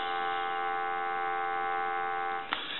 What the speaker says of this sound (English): We'll go ahead and answer the telephone and give you some dial tone.